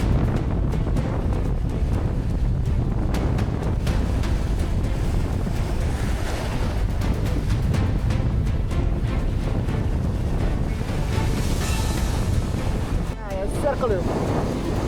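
Strong wind roars continuously across an open fishing boat at sea, mixing with surf and water noise for the whole stretch, loud and close, with a brief voice near the end.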